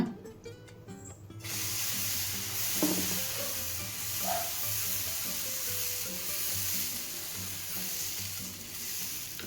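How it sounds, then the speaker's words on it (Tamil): Lentil adai dosa batter sizzles steadily on a hot stone griddle, a close, continuous frying hiss that holds at an even level after a brief quieter opening. "கல் காஞ்சிருச்சு நாம் அடவை சுட்டுக்கலாங்க"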